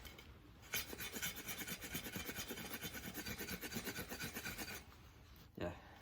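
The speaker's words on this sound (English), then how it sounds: "And what about the scraping?" A big chopper knife blade, Aurora Borealis Kodiak or Becker BK 9, scrapes wood into fine shavings in a steady, rapid rasping rhythm, loud and close, lasting several seconds before stopping.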